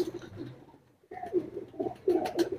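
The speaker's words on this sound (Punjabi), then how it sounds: "ਉਹ ਹੈ ਜੀ ਸ਼ਾਗਿਰਦਾਂ ਵਾਲਾ ਕਬੂਤਰ" Pigeon cooing at close range, soft and low: a few throaty coos, a short pause, then a run of rolling coos with faint background noise.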